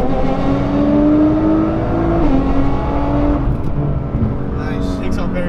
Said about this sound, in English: the car's gonna launch while rolling